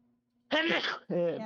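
One loud, close sneeze from a person at a tabletop role-playing game session, a sharp noisy burst followed quickly by a short voiced sound.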